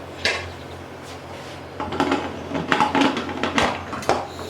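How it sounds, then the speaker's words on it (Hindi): A lid goes onto a boiling pot of gobhi gosht, a cauliflower and meat dish, giving several clattering metal clinks and scrapes in close succession at close range, with no speech. "तो बस अब इसमें उबाल आ चुका है, इसको कवर करते हैं।"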